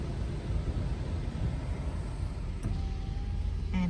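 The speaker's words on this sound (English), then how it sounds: "And it's traffic." Road traffic on a town street in Bundaberg, Queensland: a steady broadband rumble of passing vehicles with a faint whine in the middle and a brief sharper sound near the end, with no talking.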